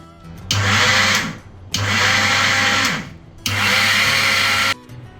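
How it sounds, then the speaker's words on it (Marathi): A kitchen mixer grinder blitzes roasted moringa leaf chutney ingredients in three loud, close bursts of a second or so each, the motor whine cutting off between pulses. "ते ग्राइंडरवर ग्राइंड करून घ्यायचे आहेत"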